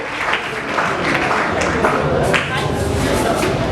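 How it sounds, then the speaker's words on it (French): Loud, enthusiastic crowd applause at a gravestone unveiling ceremony in a church community, a dense, sustained rush of clapping that holds steady, with voices mixed in beneath it. "Merci, applaudissez"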